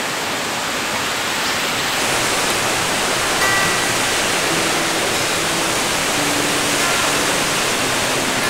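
A winter waterfall at Stony Kill pours in a loud, steady rush of broadband white water that holds unbroken throughout, close by and with nothing else heard over it.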